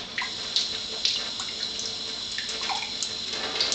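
Water poured from water ionizers, a steady splashing stream like a running tap, with small drips and bright splashes throughout, close by and with no talk.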